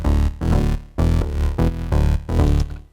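Unfiltered deep tech bass from three sawtooth oscillators in Vital, buzzing and bright, repeating in six punchy, evenly spaced notes with strong low end, loud and alone.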